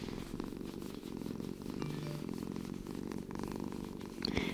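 A tiny kitten purrs close up in a lap, a steady rhythmic low rumble that continues unbroken, with a few faint rustles near the end.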